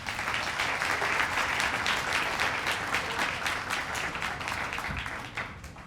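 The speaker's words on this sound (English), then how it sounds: "So how about a big hand for Richard Roberts?" A gala audience gives sustained, dense applause, loud and even for several seconds before tapering off at the end.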